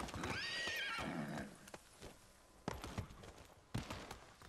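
A horse in the samurai action game Ghost of Tsushima whinnies loudly for over a second with a rising, wavering cry, followed by scattered hoof clops and thuds at close range.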